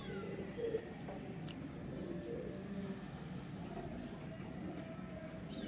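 Paired pigeons kept by a fancier coo softly at a distance against a steady low background rumble, the calls faint and repeated.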